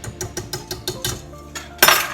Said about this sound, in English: I'm just gonna whisk that together.